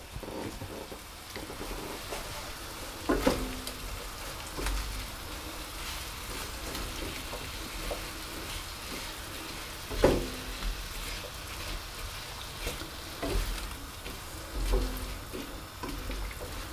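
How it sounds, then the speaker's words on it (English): Apple turnover filling of apples and caster and brown sugar cooks down in a pan with a faint, steady sizzle, broken by a few sharp stirring knocks and clicks. "I'm going to let that cook down, releasing juices, and the juices will begin to evaporate."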